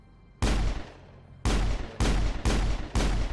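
Gunfire in the video game Mass Effect: five loud, booming shots, the first alone and the rest coming in a fairly even rapid sequence, each with a heavy low thud and a decaying tail.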